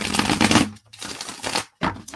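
Tarot cards being shuffled by hand, two bursts of rapid riffling and cracking with short pauses between, close and fairly loud, with no speech.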